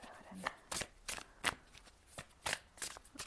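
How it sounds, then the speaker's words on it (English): Large oversized tarot cards being shuffled by hand in repeated bursts of riffling and sliding, close and fairly loud, with a voice speaking briefly between the shuffles. "These are quite big and hard to shuffle."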